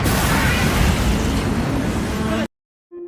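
A ship struck by cannon fire explodes in a film, a loud sustained roaring blast with crackling debris that cuts off abruptly into silence, followed by a short tonal sound.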